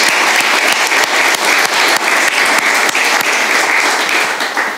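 Audience at a political conference on autonomism in Europe claps in loud, steady applause that continues throughout without speech.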